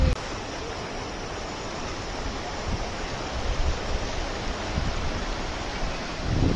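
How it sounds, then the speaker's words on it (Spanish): A waterfall at Sorrosal near Broto roars as a loud, steady broadband rush of falling water that stays constant throughout, with a few low gusty bumps and no talk. "¡Qué pedazo de cascada!"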